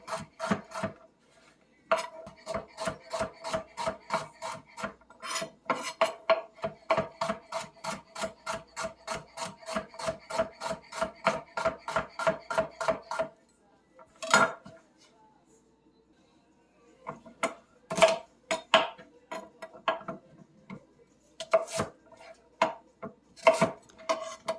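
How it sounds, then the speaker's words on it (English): A knife slices peeled carrots on the bias against a cutting board, making rapid, steady runs of close, crisp chops with a short pause, then resuming in irregular bursts. "Peel and slice the carrots."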